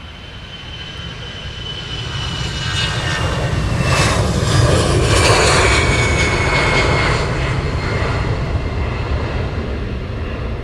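A Ryanair airliner rolls along the runway at Luton Airport, its jet engines a loud, broad roar that swells to a peak midway and then eases slightly while staying strong.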